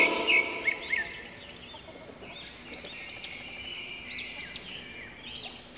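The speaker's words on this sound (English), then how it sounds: "H for hen." Hen clucking and calling in short bursts over a faint outdoor background, with a few brief bird chirps, moderately close and fairly quiet throughout.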